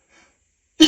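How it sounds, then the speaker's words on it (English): A single abrupt, loud sneeze bursts out at the very end after a faint wheezy breath, with near silence between. "I'm gonna sneeze again."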